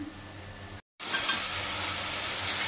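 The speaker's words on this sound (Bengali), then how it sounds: "তো ভালো করে কষিয়ে নেই।" Spices sautéing in a pan for a vegetarian arbi curry, a steady close sizzle and hiss with a brief dropout near the start, no voice over it.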